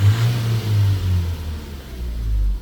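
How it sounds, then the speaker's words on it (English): A Nissan NV300 van's engine, under diagnosis for turbo boost fault codes, revs up from idle with a deep, swelling low rumble that rises and falls, close by and without talk. "Okay, engine running. Let's give it a rev."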